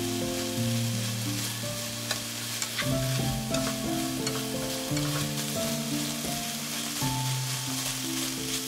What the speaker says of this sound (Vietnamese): Mình xào lên cho thịt săn lại và ra một chút mỡ.